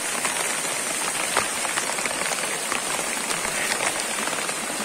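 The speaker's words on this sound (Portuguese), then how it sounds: "É chovendo, é chovendo." Heavy rain pours down in Ceará, a dense, steady roar of countless drops hitting surfaces close by, continuous and unbroken with no voices over it.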